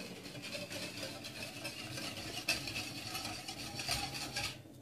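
Soft continuous scraping and swishing of a utensil stirring custard made of egg yolk, sugar and milk in a pan, with faint sizzling and occasional light clinks.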